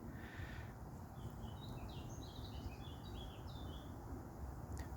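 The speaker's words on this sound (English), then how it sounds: "birdsong is more prominent" Birds chirping and twittering in the English countryside on a summer day, bright quick calls scattered through the middle and set against a steady low rumble of distant motorway traffic.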